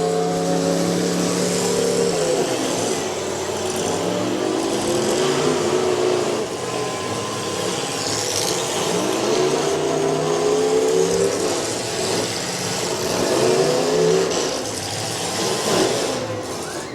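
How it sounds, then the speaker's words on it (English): A demolition derby car engine revs hard and bounces against its rev limiter at a county fair, a loud, continuous, wavering roar amid crowd and arena noise. "Up against the rev limiter on that machine"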